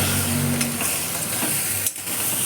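Whole brinjals rubbed with salt fry in hot oil with cumin, giving a steady close sizzle with a faint hum underneath and a brief dip near the end.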